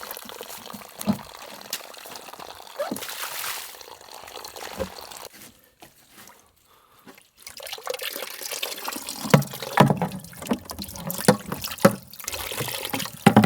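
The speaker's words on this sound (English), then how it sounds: "Rinse all these pipes off." Water rinses out garden pipes in bursts of splashing and trickling, with a short lull partway through before the flow picks up again, fairly close and with no talking.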